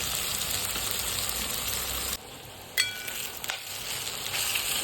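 Soaked sabudana (sago pearls) frying in a pan for khichdi, a steady bright sizzle that briefly drops away midway, with a short metallic clink before the sizzling picks up again.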